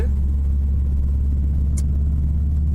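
A Subaru car exits the A4 motorway near a truck park and service station, its engine a steady, close interior rumble with constant road noise throughout and no talk.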